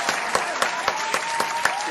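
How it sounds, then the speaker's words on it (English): An audience applauding in unison with a steady rhythmic beat of sharp claps about four per second over a continuous bed of scattered clapping. "Round of applause."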